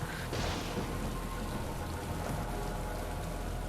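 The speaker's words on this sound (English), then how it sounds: "How is he making that rain go inside?" Steady rain pours indoors in Grand Theft Auto, a dense continuous hiss of falling drops with a low rumble underneath, constant and unbroken throughout.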